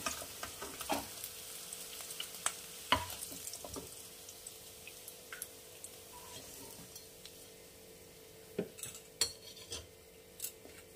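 Cauliflower florets fry in hot oil with a steady soft sizzle, broken by sharp clinks and scrapes of a utensil stirring the pan, close by and with no talking.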